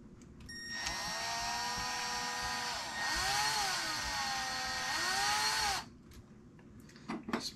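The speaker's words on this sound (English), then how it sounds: "Try to get this through with the driver." A power driver tightens a part on a Traxxas Sledge RC truck shock, a steady high whine lasting about five seconds with two brief dips in pitch as it loads up, close and loud, then stops.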